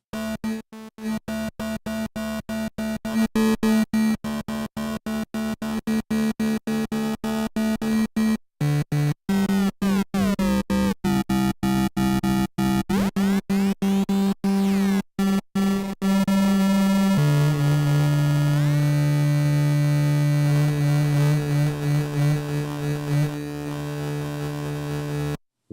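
Harsh, buzzing distortion effect from the Reveal Sound Spire synthesizer, shifting pitch in stepped jumps and sweeps, broken by abrupt cuts; loud and continuous with no talking.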